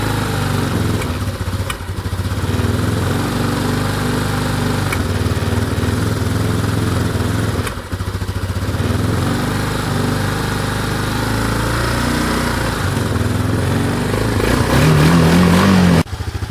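A 2009 Yamaha Big Bear 400 ATV engine idling a little high after a carburetor rebuild, a loud, steady buzzing putter close by that runs continuously with small surges and a brief dip partway through.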